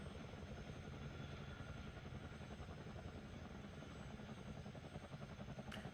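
A helicopter in an Xbox Series X game drones with a fast, steady rotor chop, a constant, even whir at low volume, alone without speech.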